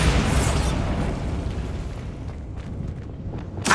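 A Bombarda blasting spell explodes in the video game Hogwarts Legacy: a loud, close boom bursts out at the start, rolls into a long rumbling decay, and a second sharp burst hits at the very end.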